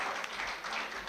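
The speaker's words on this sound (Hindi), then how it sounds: "जोरदार तालियों के साथ स्वागत कीजिए आतिया मुजीब का।" Dense applause from a crowd at a welcoming ceremony, a steady wash of many hands clapping together without pause.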